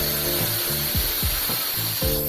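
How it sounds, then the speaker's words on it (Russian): An angle grinder fitted with a stone and concrete disc cuts through a stone-faced polystyrene facade panel, giving a loud, steady whine broken by several short dips and rough grinding bursts as the blade bites, with no voices. "При помощи УШМ и диска по камню и бетону отрезаю"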